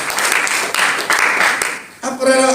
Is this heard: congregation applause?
yes